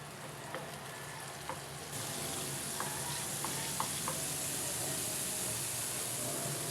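Food fries in Star margarine in a pan, a dense steady sizzle that swells louder after a couple of seconds, with a few light utensil clicks and no speech.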